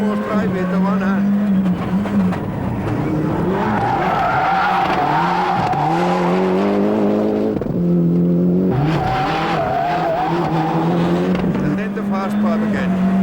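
A 1995 rally car works hard through a narrow corner on a special stage: a loud engine note rises and falls with gear changes, with brief tire squeal through the bend, and a voice speaks over it.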